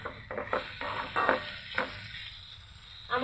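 Vegetables and dried fish being stirred and sautéed in a pan, a soft sizzle under repeated scraping stir strokes in an uneven rhythm, close and moderately loud, with no talking.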